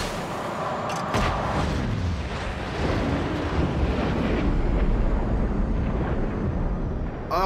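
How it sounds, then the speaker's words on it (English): A huge explosion in Just Cause 3, a sustained roaring, rumbling blast with dense crackling debris that holds loud and steady for several seconds without any talking. "Okay, that was a big explosion."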